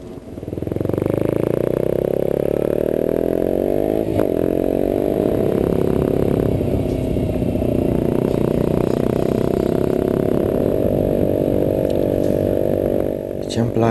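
Motorcycles riding together in a parade in Reșița, a dense continuous engine roar with revving and passing bikes, loud and close throughout.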